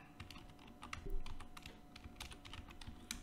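Typing code on a computer keyboard, a quick, irregular run of soft close key clicks over quiet room hum, with no talking.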